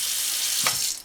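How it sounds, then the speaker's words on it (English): Warm water runs from a tap to thaw steak, a steady hissing gush close by, with a brief splashing change near the end as the flow shifts. "So I'm going to get this thawing using the warm water method."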